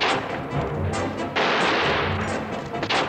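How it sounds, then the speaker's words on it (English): Gunfire from a western movie shootout, a dense run of loud overlapping shots and booming reports with continuous crackle, no voices. "Both Joel and Ron Starr get shot while trying to retrieve a rifle"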